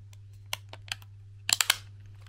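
An SSD clicks into a custom Atomos Ninja V caddy, giving a few sharp, close plastic clicks in quick succession, with two small taps first and a tight cluster of three at the end, against a faint steady hum.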